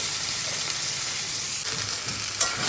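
Steady sizzling of taro leaves frying in a wok, with faint scraping of a spatula near the end; no voices.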